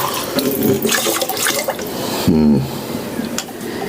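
Water splashes and trickles into a pot of rice bound for a rice cooker, a steady pouring and rushing sound with a brief louder gush partway through.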